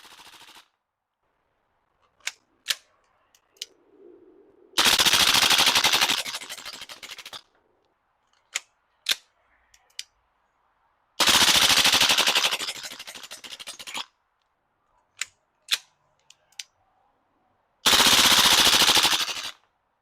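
A Maruyama SCW9/APC9K gas blowback airsoft submachine gun firing three full-auto magazine dumps of roughly two seconds each, loud and close, with quiet gaps between them broken by sharp clicks and clacks of handling.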